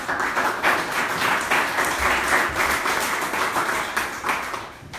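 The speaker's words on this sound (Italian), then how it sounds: "ha preso anche l'applauso degli amici che sono qui" Friends attending an outdoor party press conference at a mountain hut clap steadily and fairly loudly for about five seconds, with faint voices mixed in.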